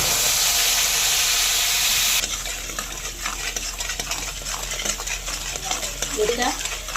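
Sugar caramelizing in a pan is stirred for homemade mishti doi, with a loud steady sizzling hiss for the first two seconds that settles into softer scraping and bubbling. No one speaks.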